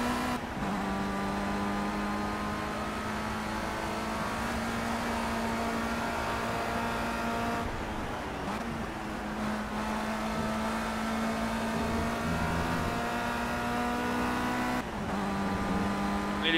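A race car engine drones steadily in the Project CARS racing game, a loud, sustained high-revving whine that shifts pitch with gear changes and throttle, with brief dips and a rain-like hiss underneath.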